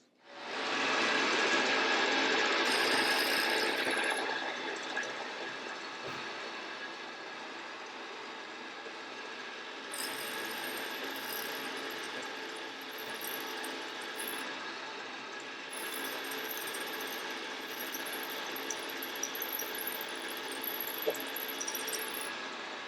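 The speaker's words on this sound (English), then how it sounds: "I'm going to try the left-hand drill just because." Drilling with a left-hand drill bit on a Triumph-to-Harley magneto conversion part, a loud continuous whirring power tool that starts strong, then settles into a steady grinding drone with intermittent high squeals.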